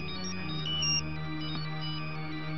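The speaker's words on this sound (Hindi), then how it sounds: "देखो किसका फोन है" A phone rings with a steady electronic ringtone, a continuous tonal chime that plays clearly and alone without any talk.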